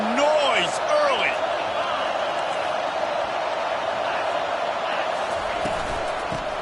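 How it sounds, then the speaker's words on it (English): Stadium crowd at a college football game roars in a broad, steady wash of noise, with a commentator talking over it from the start. "This crowd bringing the energy and noise early."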